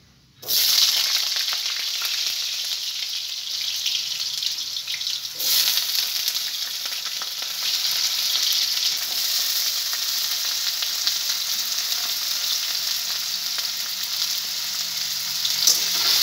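Potatoes fry for khichdi in a pan of hot oil, starting after a brief silence as a loud, unbroken sizzle close up that lasts throughout with no talking.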